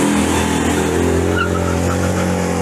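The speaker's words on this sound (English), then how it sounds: "That was some top quality down changing right there." A loud, close Citroen 2CV engine roars steadily, its pitch shifting as the gears change down.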